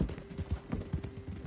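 A horse's hooves clop in a loose, uneven rhythm at close range, soft thuds repeating over a faint steady hum.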